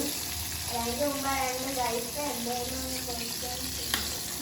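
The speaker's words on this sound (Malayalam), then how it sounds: "അതാ മീനടുപ്പ് തുടരുന്നു" Mackerel fry in a pan with a continuous close sizzle while a person talks over the cooking noise.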